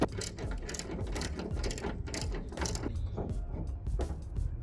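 A ratchet loosening bolts on a car bonnet and damaged bumper, giving quick repeated clicking bursts in short uneven strokes, close by and fairly quiet.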